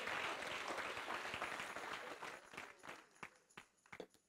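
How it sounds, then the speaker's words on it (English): A church congregation claps hands in praise, dense loud applause at first that thins into scattered separate claps as it dies away. "Give God a hand clap of praise and glory."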